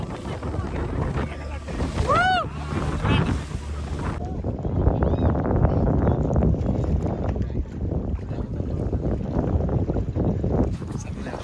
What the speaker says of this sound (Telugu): స్పీడ్ అయితే చాలా అంటే చాలా పోతుంది. బోట్ పైకి ఎగురుతా అంటే